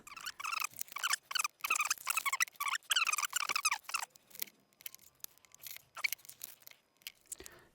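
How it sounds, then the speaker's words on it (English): Protective film peeled off laser-cut, engraved acrylic sheet: quick crackling, tearing rips in rapid bursts, dense at first and then sparser, close and fairly quiet, with no talking. "The next step is to get all the protective covering off of the acrylic after we laser cut it and engrave it."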